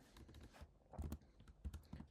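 Keys clatter on a computer keyboard as a terminal command is typed on a Mac, in quick uneven bursts of close, crisp clicks with short pauses between them.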